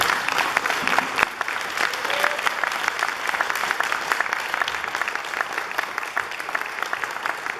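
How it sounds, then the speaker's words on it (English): An audience at a youth sexual exploitation forum applauds steadily, a dense, sustained clapping from a nearby crowd that fills the whole stretch at even loudness. "we need to give them just a wondrous round of applause for this."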